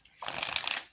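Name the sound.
shuffling tarot cards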